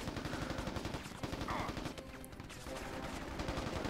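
Rapid automatic gunfire in the video game Mercenaries, a dense sustained burst of shots continuing throughout with brief dips, loud and close, without speech.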